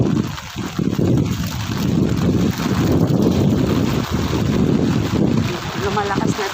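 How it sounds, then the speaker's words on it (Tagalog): Strong typhoon wind in Taiwan roars and buffets the microphone continuously, with rushing gusts and a faint voice underneath. "Uy, malakas na hangin."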